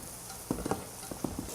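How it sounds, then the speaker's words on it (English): Onions fry in a pan with a quiet, steady sizzle, broken by a few soft scraping knocks from stirring over this brief stretch. "Now the smell of frying onions"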